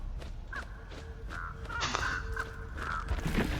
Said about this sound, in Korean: 그러면 쟤는 왜 까마귀가 생긴 거야?